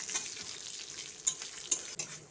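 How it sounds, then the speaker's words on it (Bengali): Mustard seeds, fenugreek, peanuts and green chilli fry in hot oil for a vegetarian bottle gourd dish, a soft continuous sizzle with scattered sharp pops and crackles, close by, no talking. "এবার সর্ষে, মেথি, চিনেবাদাম ও কাঁচা লঙ্কাটা ভালো করে তেলের মধ্যে ভেজে নিচ্ছি।"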